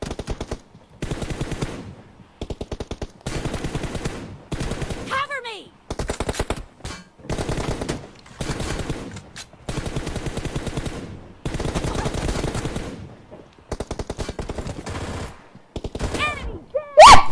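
Gunfire in PUBG Mobile during a team deathmatch, loud rapid bursts of automatic fire in repeated volleys separated by short pauses, with brief voices heard in between.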